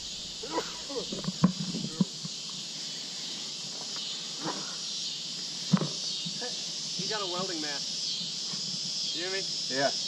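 Crickets chirp during a total solar eclipse, a continuous high, dense drone, with people talking intermittently nearby and occasional soft knocks and shuffles.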